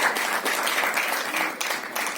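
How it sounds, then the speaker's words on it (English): Applause from the audience at the Jersey movie trailer launch greets Shahid Kapoor and Mrunal Thakur, a loud, dense burst of clapping from a large crowd that holds steady for the short stretch. "big round of applause for Mrunal and Shahid Kapoor"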